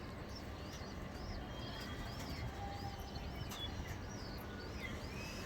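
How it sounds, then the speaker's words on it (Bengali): Soft cooing of a female pigeon repeats against a steady rumbling background, with a few faint chirps overhead; no one speaks. "মাদি কবুতর"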